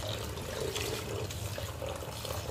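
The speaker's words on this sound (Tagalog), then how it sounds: "maghugas tayo ng mga gulay" Leafy vegetables are washed in water, with continuous close splashing and sloshing, loud and uneven, and no talk over it.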